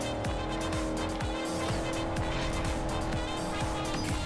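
In the Forza Horizon racing game, a car slides with its tires squealing over a steady, loud engine roar, the screech continuous and gritty across several seconds with no speech.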